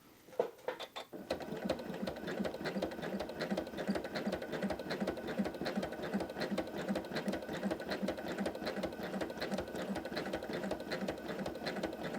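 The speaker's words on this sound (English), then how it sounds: "I'm going to stitch along and it's going to couch that yarn down" Janome M17 sewing machine doing free-motion stitching to couch yarn, a fast, even mechanical whir of needle strokes that starts after a few handling clicks and runs steadily close by.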